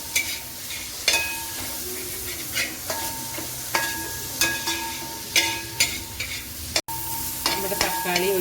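Tomato and onion sauté in a pan for a prawn biryani gravy, sizzling steadily while a spoon stirs and scrapes in repeated strokes, close and fairly loud.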